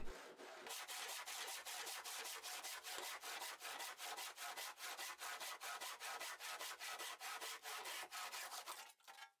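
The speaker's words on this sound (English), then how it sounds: "where I first have to cut them to length at an angle again" Hand saw cutting wooden park bench pieces to length at an angle, producing fast, regular rasping strokes close up, about four per second, ending as the cut finishes.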